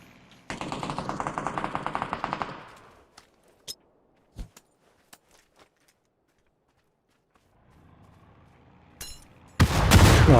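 Automatic gunfire rattles in PUBG as a rapid burst of shots for about two seconds, followed by a few scattered single shots and footsteps, a quiet lull, then a sudden loud blast near the end.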